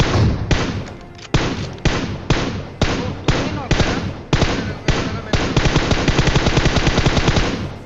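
Rapid gunfire in the video game PUBG Mobile: a string of separate loud shots at irregular intervals, then a fast automatic burst near the end, heard alone without talk.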